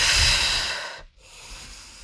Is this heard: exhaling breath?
yes